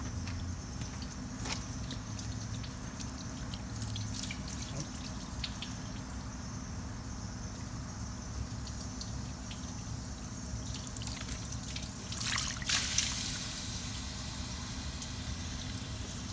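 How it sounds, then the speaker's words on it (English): Water trickles and drips onto a hot final drive on a Bobcat T650 skid-steer, a faint, steady splashing with an engine idling low underneath and a brief louder spatter near the end. "It's coming with some more water, cool down some more."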